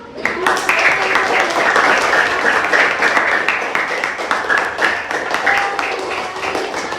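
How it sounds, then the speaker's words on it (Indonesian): A room full of people applauds continuously, loud and dense, with the clapping holding steady for the whole stretch and some voices mixed in. "Beri tepuk tangan dulu."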